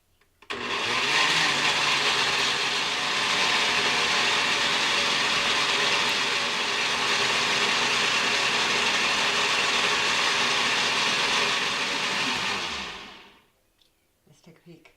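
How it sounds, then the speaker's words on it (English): A blender whirs loudly and steadily for about twelve seconds, mixing eggs and room-temperature cream cheese for keto egg noodles, then spins down and stops, leaving faint clicks. "This is going to blend for about a minute"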